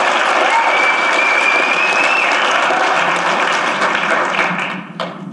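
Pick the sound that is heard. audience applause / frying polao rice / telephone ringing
audience applause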